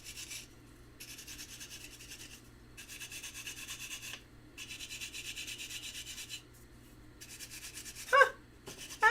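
A small object being brushed and polished, heard as several steady bursts of soft, close rubbing strokes separated by short pauses, followed by a couple of faint clicks near the end, with no talk.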